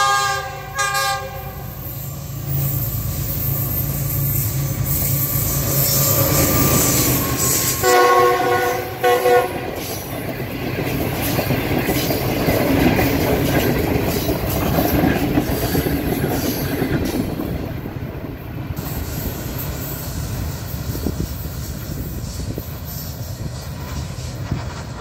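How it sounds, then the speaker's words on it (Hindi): Green Line 5 Up passenger train racing past at high speed on a Pakistani main line at Ferozwala, a loud horn blast followed by a long rushing roar of wheels and carriages, close and without speech. "ग्रीन लाइन 5 अप काफ़ी तेज़ स्पीड से यहाँ से गुजरी है"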